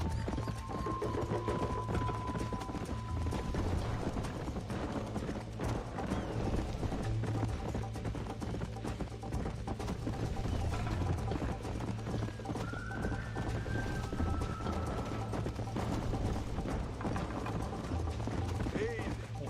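A horse gallops in Red Dead Redemption with steady, rapid hoofbeats over a dense bed of game music and ambience, a few brief tonal cues and whinny-like calls sliding above, while speech-like voices run faintly underneath.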